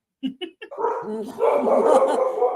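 A puppy yaps three quick, sharp barks, then keeps up a run of whiny yelps and barks at a man working on a car, close and fairly loud.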